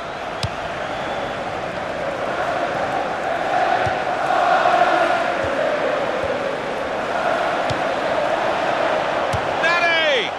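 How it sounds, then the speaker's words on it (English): A stadium crowd at a FIFA 16 video game football match roars in a continuous loud swell beneath a commentator talking, with a few sharp clicks and a whistle-like chirp at the end. "The crowd were roaring for the goal that they were craving"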